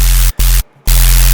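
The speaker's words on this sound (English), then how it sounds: "you're clipping, so you're going to get the crunch from the noise." A distorted noise layer clipping over a heavy low rattlesnake bass, harsh and crunchy, cut by two brief silent gaps, loud and gritty throughout.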